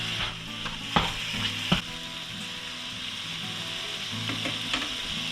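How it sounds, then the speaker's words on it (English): Venison browning in a frying pan sizzles steadily and close, with a couple of sharp clanks from the pan or utensils. "you can hear the frying pan in the back. While it's browning"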